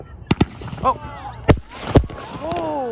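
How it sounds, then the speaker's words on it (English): Victoria Day fireworks over a North York park in Toronto, several distant bursts popping at irregular intervals amid whistling trails, with people talking and exclaiming nearby. "I see a few fireworks just off in the distance,"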